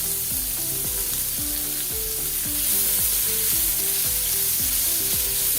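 Onion tossed into a hot pan with chillies for Maharashtrian horse gram (kulith) pithla gives a constant loud frying sizzle, with a repeating pattern of tones running underneath throughout.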